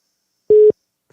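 A single short electronic telephone tone sounds once, clean and loud, as a call goes to voicemail, then a faint trace of another sound follows after a brief silence.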